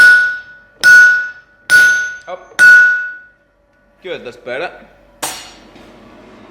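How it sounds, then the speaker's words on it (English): Sledgehammer blows on hot steel while forging wolf jaw tongs and tightening the radius: four heavy, ringing strikes in a steady rhythm, a pause with brief talk, then one more loud blow. "come back in here with a sledge and tighten this radius up"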